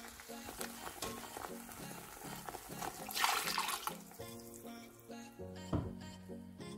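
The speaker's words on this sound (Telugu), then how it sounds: "ఇప్పుడు ఆ మిక్సీ గిన్నెలో కూడా కొంచెం వాటర్ వేసి వేసుకోవచ్చు" Water poured into a mixer jar in a home kitchen, a soft splashing and trickling rush over a rhythmic tapping background, quiet and close, with no talk.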